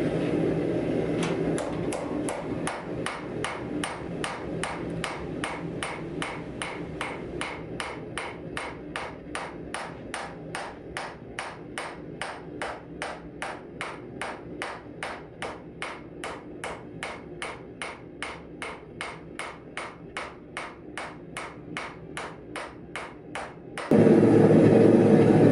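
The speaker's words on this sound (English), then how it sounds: "So here we go, let's get some hammering." Steady hammer blows on hot steel at a forge as a knife is shaped from an old Worth monkey wrench, dozens of sharp evenly spaced metallic strikes ringing out for over twenty seconds before stopping.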